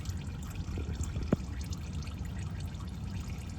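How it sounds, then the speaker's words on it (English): Engine oil drains from the drain plug of a 2018 Chevy Equinox LT, a faint steady pouring trickle with a single brief clink partway through. "as soon as you start removing that drain plug, it will start, all the oil will start coming out"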